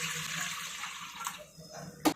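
Water pours into a cooking pot for kala jamun sugar syrup in a steady trickle that gradually thins out, ending with a sharp metallic clink.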